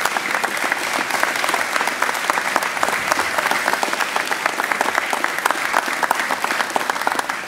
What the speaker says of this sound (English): give him a round of applause, and everybody up here as part of Full Sail